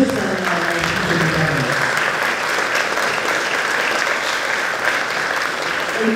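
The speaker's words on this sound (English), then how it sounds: "Please join me in giving these ladies a round of applause" An audience at an elementary school promotion ceremony claps loudly and continuously, a dense, even wash of applause that holds steady from start to finish.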